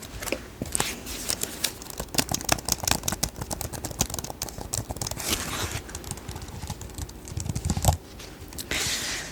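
Typing on the detachable keyboard of a Windows tablet, close and fairly quiet, with rapid irregular clicky keystrokes in bursts and brief pauses.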